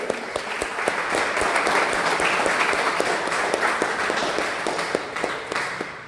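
An audience at a lecture applauds, a dense, steady wash of many hands clapping that holds for several seconds at even loudness before thinning slightly at the end.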